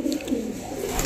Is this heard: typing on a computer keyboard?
no